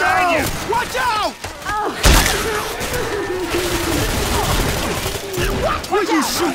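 Gunfire in the zombie shooter Left 4 Dead 2 crackles in repeated bursts of shots and thuds, some sharp and close, layered under the voices of players talking throughout.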